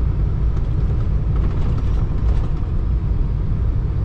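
A semi truck rolling down a narrow back road, Ontario Highway 600, at night, heard as a steady low engine and road rumble from inside the cab with no talking.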